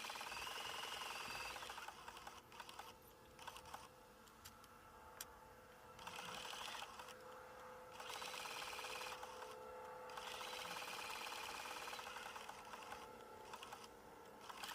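A sewing machine runs a loose zigzag stitch around a diamond-shaped appliqué in trapunto quilting, stitching in quick whirring bursts separated by brief pauses, close and fairly quiet.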